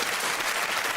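Studio audience at a TV comedy panel show clapping in a dense, loud burst that fills the whole moment, with no voices over it.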